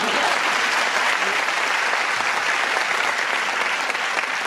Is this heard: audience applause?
yes